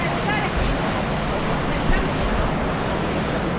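A swollen, flooding river in Padang rushes past with its water rising, a dense, steady roar of broad churning noise close by and unbroken throughout.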